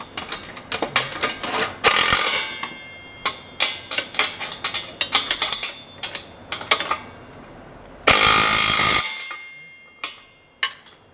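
A hand ratchet tightens the bolts of a dual 2.5-inch sports muffler on a Subaru Impreza, giving sharp, close clicking strokes in uneven runs, with one longer rasping burst near the end.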